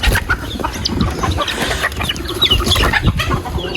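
A flock of native country chickens clucks and chatters continuously up close, busy overlapping calls with scratching and rustling around them.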